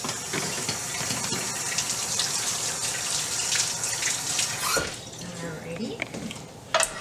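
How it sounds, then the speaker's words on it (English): Hands are rinsed under a running kitchen tap at a tailgate cookout, a steady close stream of splashing water that stops partway, then a few clatters follow and a voice speaks briefly. "Quick rinse my hands."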